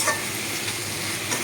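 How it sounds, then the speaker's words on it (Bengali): Grated ginger and slit green chillies being stirred in hot oil, giving a steady close sizzle with soft scraping from the stirring, no voices over it. "তো নাড়িয়ে চেড়ে নিব একটু ভাজা ভাজা করে।"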